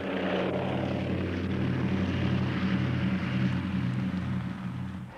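Concorde prototype 001, the twin prototype built by Sud Aviation, heard in flight as a steady, loud, broad engine roar with a low droning hum underneath, holding constant and easing slightly at the end.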